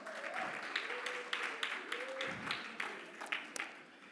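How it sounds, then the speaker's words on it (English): Scattered clapping from guests at an early-career researchers' gala dinner honoring award recipients, sparse and fairly quiet, with spaced individual claps under a voice talking. "Can we give them a hand of applause again?"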